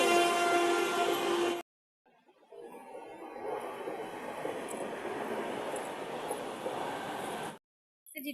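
A train passing through a station, a broad steady rumble and rush of wagons that swells in after a short gap and holds at moderate volume.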